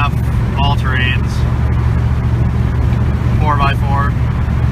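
A 2002 Dodge Dakota quad cab pickup, a 4,500-pound 4x4 on 31x10.5 all-terrain tires, cruises at around 1700 RPM with a steady low drone and road rumble while someone talks over it.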